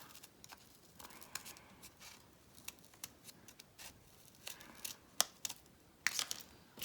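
Scissors cutting small shapes from a paper cheese-corner bookmark, with quiet, close snips in an irregular rhythm that grow a little sharper toward the end.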